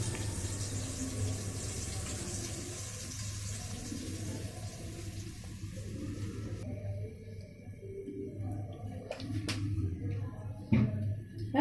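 Water pours and trickles steadily over a low kitchen hum, then gives way to a few clinks and light stirring taps near the end as orange food colouring is mixed in for rava kesari.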